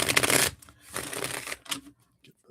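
A deck of reading cards being shuffled close up in two quick riffling bursts, followed by a few soft taps and brief quiet.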